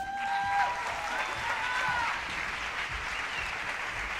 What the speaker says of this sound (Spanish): ¡Un aplauso para Ángela Pérez!